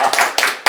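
Three short bursts of audience clapping at a Pohang art fair talk event, loud and close, separated by brief gaps.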